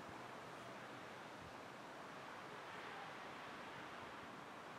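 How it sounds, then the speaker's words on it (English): Wind blowing across the top of Sandia Mountain, a steady soft broadband rush with no gusting peaks and no voices, faint and continuous throughout. "You can hear the wind blow."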